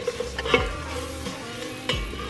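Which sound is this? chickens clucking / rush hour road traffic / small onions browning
small onions browning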